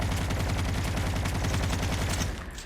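Rapid automatic gunfire from Call of Duty Mobile battle royale, a loud, dense and continuous stream of shots that fades out at the very end.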